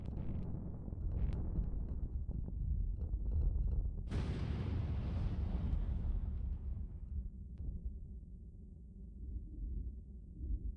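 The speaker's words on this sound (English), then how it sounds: "Fire a missile off. Boom!" A missile explodes in the space combat video game Void Destroyer. A low rumble gives way to one sudden, bright blast midway that fades out over several seconds.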